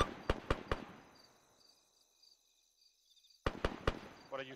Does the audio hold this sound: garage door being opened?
no